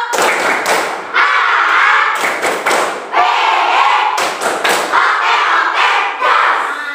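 A primary school class claps a patterned rhythmic cheer together, loud bursts of synchronized claps with short breaks between phrases, indoors and near.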